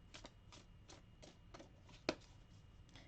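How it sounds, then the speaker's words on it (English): A Diverse Tarot de Marseille tarot deck is shuffled overhand, giving about a dozen soft, evenly spaced card swishes with one sharper snap near the end, close and quiet, with no voices. "let's just see how it overhand shuffles"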